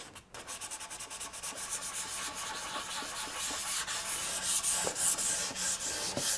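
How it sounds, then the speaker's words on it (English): Hand sanding of a milk-painted wooden stool, a close steady rasping scrape in rapid back-and-forth strokes, continuous and fairly loud with no speech. "those get a hard sanding down to almost bare wood."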